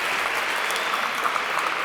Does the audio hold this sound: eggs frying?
no